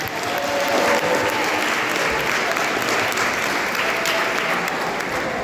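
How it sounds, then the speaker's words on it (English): A middle school jazz band audience at a spring concert applauds after a Latin jazz chart, dense, steady clapping filling the room for several seconds without a break. "give another round of applause for a great first number."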